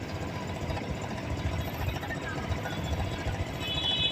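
A motorcycle engine runs steadily at a training school during a clutch-control riding lesson, a continuous close mechanical drone with a slight rise in revs toward the end.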